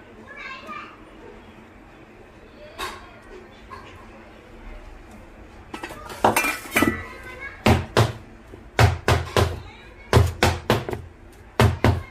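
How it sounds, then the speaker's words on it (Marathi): Plum cake batter with vinegar stirred quickly in a bowl, the spoon knocking against the bowl in a fast run of sharp, close taps that grows louder toward the end, with children's voices and chatter in the background. "आता विनेगर टाकून फटाफट हलवायचे आपण त्याला आणि पटकन केकच्या टीन मध्ये ट्रान्सफर करायचे"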